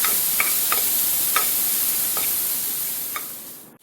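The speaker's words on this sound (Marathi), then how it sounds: "कांदा घालूया आणि तो सुद्धा व्यवस्थित परतून घेऊया" Onion and garlic sauté in a pan for palak soup, giving a steady close sizzle with a few light spoon-stirring clicks scattered through it, no talk.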